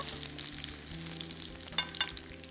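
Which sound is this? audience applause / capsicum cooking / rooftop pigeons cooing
capsicum cooking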